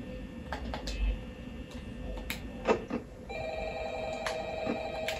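A telephone rings in Five Nights at Freddy's 3, a faint electronic ring over a low game hum with scattered soft clicks and ticks.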